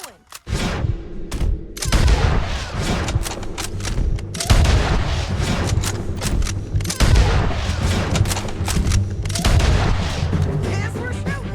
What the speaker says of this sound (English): Yes, we're shooting.